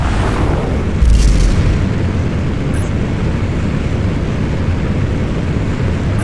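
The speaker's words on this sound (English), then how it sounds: "Let's try routing energy to subsystems, Jarvis. We'll start with the repulsor jets." Repulsor jets firing in the Iron Man (2008) video game: a loud, steady roaring thrust with a heavy booming burst near the start, then a sustained rushing blast that carries on to the end.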